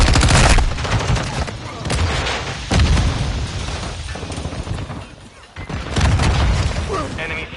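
Dense gunfire and booming blasts from the video game Modern Warfare II on PS5 fill the whole stretch, loud and continuous with short bursts and heavy thumps, and a voice speaks now and then underneath.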